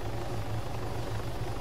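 Helicopter in the Arma 3 video game lifting off, a steady rhythmic rotor thump with a constant engine drone, close and unbroken, no talk.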